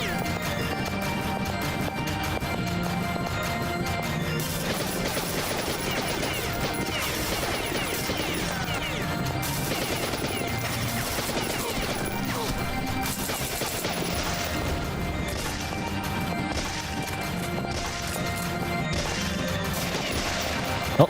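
Dense gunfire in the Beyond Citadel shooter game, rapid bursts and crashing impacts layered over continuous background music throughout.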